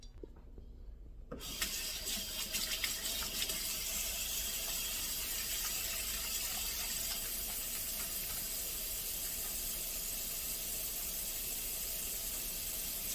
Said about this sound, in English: chicken breasts, and I'm rinsing those off